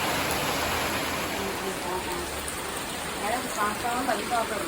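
Steady rain falls and patters on surfaces, a continuous broad hiss with scattered droplet splashes, alone and fairly close.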